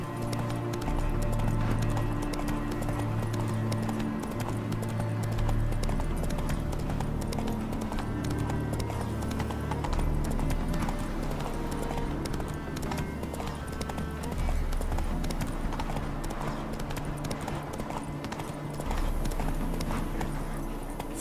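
Roach, the horse in the Witcher 3 video game, trots with steady, even clip-clopping hooves over a loud game soundscape, and a brief whinny comes through.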